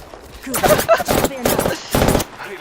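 Rapid gunfire bursts from an Apex Legends match crack out in several quick volleys, loud and close, separated by short gaps.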